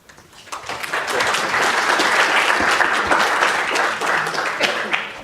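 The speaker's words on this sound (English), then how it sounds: "Let's give all the students another round of applause." Audience applause after a student research presentation at an industry day, a dense wash of many hands clapping that swells quickly and holds steady and loud for several seconds before easing slightly.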